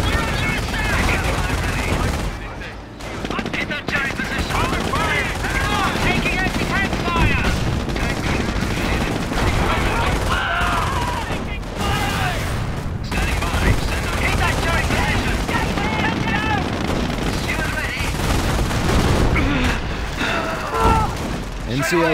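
Dense gunfire and heavy weapon blasts from tanks and infantry in a Company of Heroes World War II battle at Carpiquet airfield near Caen, continuous machine-gun bursts and booms throughout, with voiced unit callouts mixed in.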